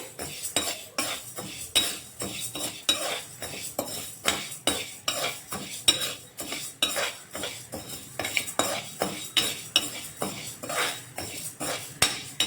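A spoon scrapes and stirs spices dry-roasting in a pan over a medium flame for homemade rasam powder, with close, rhythmic strokes roughly twice a second and a faint crackle underneath.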